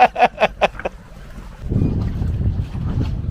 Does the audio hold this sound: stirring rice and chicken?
no